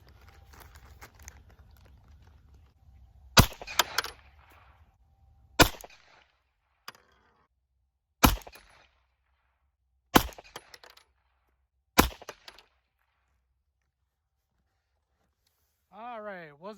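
Five sharp 9mm shots from a Glock 17 pistol firing 124-grain Accura reloads with Titegroup powder, spaced roughly two seconds apart, loud and close, each followed by brief clatter of ejected brass landing on a table; light background noise and a faint whistle at the end.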